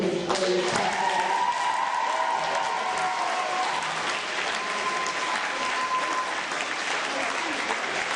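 Wedding guests applaud the speakers in a sustained, dense round of clapping that fills the room, steady and loud throughout with a faint crowd murmur underneath.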